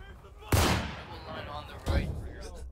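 Two loud musket shots ring out about a second apart in the video game War of Rights, each a sharp crack with a rolling boom, over steady battlefield background noise.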